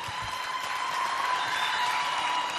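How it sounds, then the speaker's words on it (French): Audience applause for dancers at a community dance event, a moderate, fairly even spell of clapping heard at some distance, with faint crowd noise and a light cheer mixed in. "Est-ce qu'on peut encore les applaudir bien fort, s'il vous plaît?"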